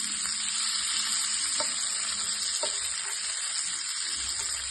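Sardines fry in a pan with a continuous soft sizzle and a few faint pops, steady and fairly quiet throughout.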